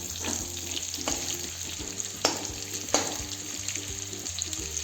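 Bitter gourd (karela) pieces sizzle steadily as they fry in a pan, with a constant hiss and a few sharp clinks and scrapes as pieces are turned over one by one.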